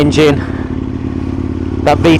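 An Aprilia Tuono Gen 2 motorcycle's V-twin engine idles nearby with a steady, low, lumpy throb, while someone talks briefly over it at the start and again at the end.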